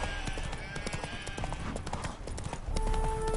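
Horse hooves clip-clopping in The Witcher 3, a steady rapid trot of crisp hoofbeats with game ambience and a brief tonal hum near the end.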